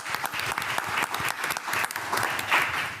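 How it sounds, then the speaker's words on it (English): Applause from the audience at a school board meeting, a brief, dense burst of many hands clapping at close range, steady with no talk over it. "a round of applause"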